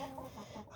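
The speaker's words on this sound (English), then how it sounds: "My wonderful chicken." Chickens clucking close by, soft low clucks and murmurs repeating through a brief, quiet moment with no talking.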